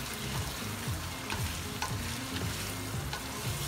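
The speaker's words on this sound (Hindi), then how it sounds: "ये 2 से 3 मिनट मैंने इसको भून लिया है हरी मिर्चों के साथ" Masala frying with green chili paste for white chicken qorma, a dense, continuous sizzle with rhythmic stirring scrapes heard up close throughout.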